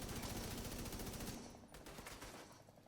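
FAMAS rifle in the shooter game The Division 2 firing a rapid burst of automatic shots, then a few scattered shots afterward, faint and with no voices.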